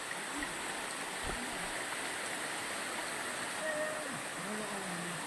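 Tarias Falls waterfall, a constant broadband rush of falling water filling the whole scene, with faint voices talking and calling out beneath the roar.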